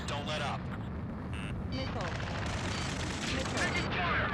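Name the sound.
gunfire in the video game Ace Combat 7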